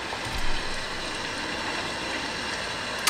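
Steady white-noise rainstorm sound plays for naptime, a constant hiss of rain filling the room at even volume, with a faint low bump near the start.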